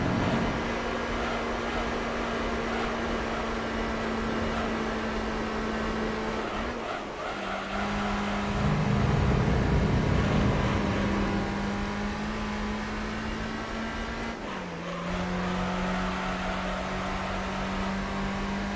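Car engine in the racing video game Gran Turismo 3, held in third gear during an arcade time attack, droning steadily at high revs with brief dips at gear or throttle changes, loud and continuous with no talk.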